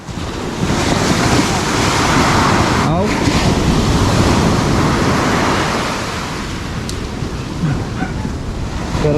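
Steady roar of sea waves surging around a small boat after a thunderstorm, with gusting wind buffeting the microphone, loud and continuous, with a brief exclaimed word.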